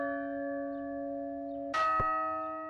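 A single large bell tolls, its long ringing hum sustained throughout, then a sharp second strike lands just before the two-second mark and rings on loudly, with no voices.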